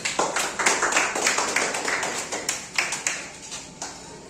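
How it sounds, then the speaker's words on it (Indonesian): A classroom of students claps hands together during a lesson, giving a steady run of sharp, uneven slaps that fill the whole stretch at close range with no talking over them. "Ya, tepuk tangan dulu."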